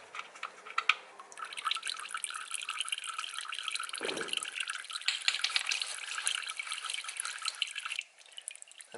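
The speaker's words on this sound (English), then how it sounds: "I'm going to go ahead and undo my oil plug and let it drain the rest of the way." Engine oil from a BMW i8 drains out of the undone drain plug, a steady close trickle and drip of liquid running continuously for about eight seconds, alone and without talk.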